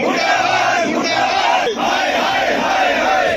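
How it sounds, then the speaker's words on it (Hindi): Villagers from Sheikhpura near Hansi protest with a dense, loud crowd chant, many voices shouting slogans together steadily, with a brief dip midway. "पूरी तरह से नारेबाजी की जा रही है"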